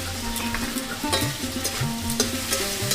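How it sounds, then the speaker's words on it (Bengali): Fried potatoes sautéed in a pan with a ground paste of cumin, fennel, ginger and dried red chilli: a steady close sizzle with repeated scraping stirs and clinks of the spatula throughout. "বাটা মশলাটা আমি দেব জিরে মৌরি আদা আর শুকনো লঙ্কা বাটা এটা দিয়ে ভালো করে কষিয়ে নেব আলুটাকে"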